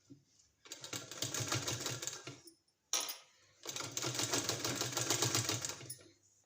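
A sewing machine stitches a long cord onto the centre line of trouser fabric in two close, rapid runs of whirring stitches separated by a brief pause, each starting and stopping abruptly.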